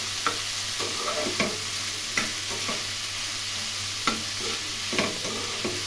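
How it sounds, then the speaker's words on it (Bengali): Ash gourd pieces with turmeric fry in a pan on medium flame, a steady sizzle broken by repeated scrapes and knocks of stirring at an irregular rhythm, close and fairly loud with no voices. "এখানে আমি পরিমাণ মতো হলুদ দিয়ে দিলাম। খুব ভালো করে নাড়াচাড়া করে ভেজে নেব।"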